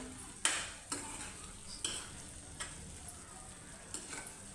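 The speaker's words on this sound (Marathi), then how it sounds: "हे असं चांगलं परतवून घ्यायचं" Chakvat (bathua) greens with a pinch of turmeric are stirred in a pan: a soft, low sizzle broken by about six sharp spatula scrapes at uneven intervals, close and fairly quiet.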